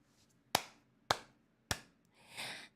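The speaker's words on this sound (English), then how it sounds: "Everybody clap." Three sharp, evenly spaced hand claps ring out one after another, loud and close against near silence, followed by a brief softer rushing swell.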